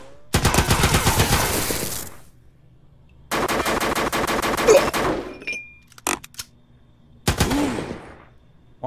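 Bursts of rapid automatic gunfire from a video game, three long volleys separated by short pauses, loud and close, with a few single sharp shots between.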